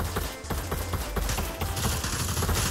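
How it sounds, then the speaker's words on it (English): Dense, continuous gunfire from a VR shooter video game: rapid overlapping shots and bursts sound loud and steady throughout with no pauses, like a sustained firefight. "he's shooting us really well"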